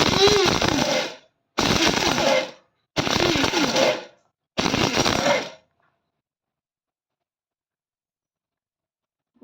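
A small mini mixer grinder whirs loudly in four short bursts of about a second each, switched on by holding its button, then stops and leaves the room silent.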